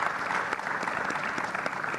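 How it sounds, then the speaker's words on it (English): An audience applauds panelists at a conference masterclass session, a steady, dense patter of clapping hands filling the whole moment. "I'll ask applause to my panelists"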